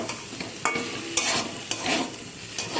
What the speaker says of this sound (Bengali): দিয়ে সব কিছুকে একসাথে ভালো করে মিশিয়ে নেব।